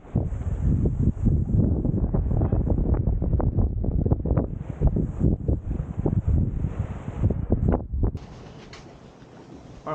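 Strong wind buffets the microphone aboard a sailboat at sea, loud rushing gusts with rustling and flapping, easing toward the end.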